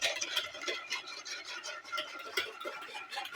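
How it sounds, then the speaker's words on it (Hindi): A spoon stirs milk into a mixture in a bowl, giving quiet, close, rhythmic scraping strokes repeated throughout. "अब इसको फिर अच्छे से मिक्स करना है हमने"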